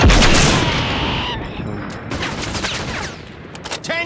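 In the video game Caliber, on the Al-Malik Hotel night map, a burst of rapid gunfire opens loudly, then scattered shots and impacts follow, with a few sharp cracks near the end.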